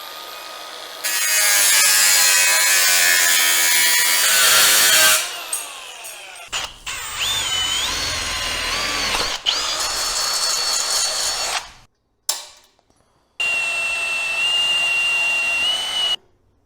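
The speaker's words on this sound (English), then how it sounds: "I'm gonna cut me a piece of metal and make a better washer to hold the hood down." A power tool cuts through a small piece of metal for a hood washer on a 65-year-old vehicle, running in loud sustained bursts with whining, shifting pitch, several stops and restarts, and no talking.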